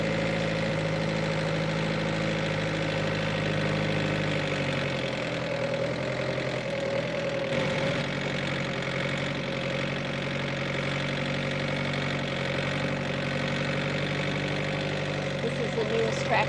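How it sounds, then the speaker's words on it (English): The newest tractor on a small family farm idles steadily, a continuous low rumble with a faint knocking texture that shifts slightly in pitch partway through, close and unbroken. "This is the newest tractor that we've purchased."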